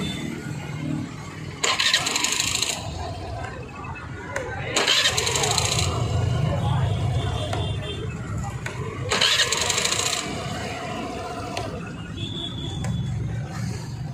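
A Suzuki Avenis BS6 scooter with starting trouble is cranked and fires up in three bursts of loud starter whir and engine noise, its idle rumbling steadily between attempts, with people talking nearby.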